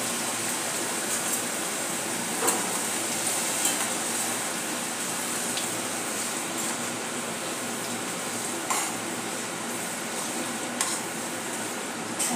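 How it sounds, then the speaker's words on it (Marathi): Potato chips fry in a batch of hot oil for a fasting chivda, a steady dense sizzle and bubbling running throughout with a few faint clinks of utensils, no talking. "आता आपल्याला थोडे थोडे करून यामध्ये आपले चिप्स तळून घेऊया"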